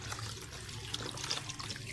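Lukewarm water runs from a kitchen tap as mint stems are rinsed under it, a steady soft trickling and splashing with small irregular spatters, fairly quiet throughout.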